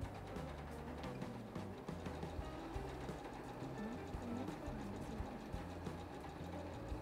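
A sewing machine runs a straight stitch on a bib at a steady, rapid mechanical rhythm, quiet and continuous, with no voices.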